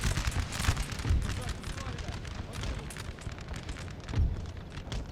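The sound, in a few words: cannon fire in Napoleon Total War video game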